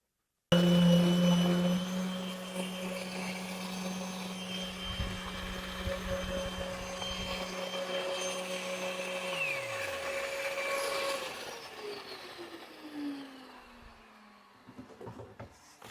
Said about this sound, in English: I'm just gonna sand it and then get some stain on it really quick.